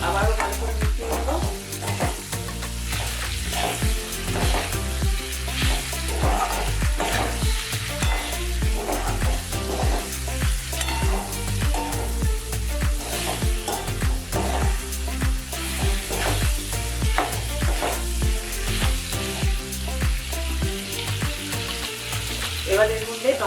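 Desi pasta stirred in a pan after salt goes in, with continuous sizzling and a dense rhythm of spatula scrapes and clatters against the pan, loud and close throughout.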